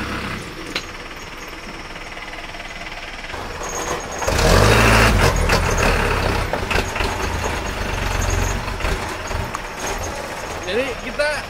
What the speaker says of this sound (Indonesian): ada truk juga